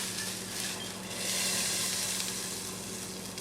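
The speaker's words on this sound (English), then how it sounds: "Nice sizzle there" Steady, close sizzling of chicken and rice frying in a hot pot, a continuous crackling hiss with faint stirring underneath and no talking.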